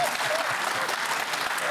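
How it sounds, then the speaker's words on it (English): A studio audience at a televised Q+A panel discussion on Trump and the 2024 US election applauds in a brief, dense burst of clapping throughout. "You can applaud."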